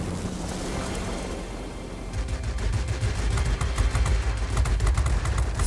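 Aircraft guns firing in World of Warplanes, a dense rapid rattle of shots that starts about two seconds in over a steady engine roar and keeps hammering to the end, with no voices.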